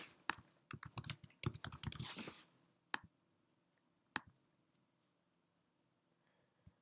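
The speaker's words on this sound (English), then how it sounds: "I'm going to type in" Keys rattle on a computer keyboard in a quick, dense burst for about two seconds, followed by a few isolated taps spaced apart. The typing is quiet and close with no voices.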